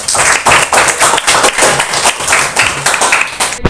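Classroom applause from a group of students, a dense burst of clapping lasting several seconds at steady loudness, with a few voices mixed in.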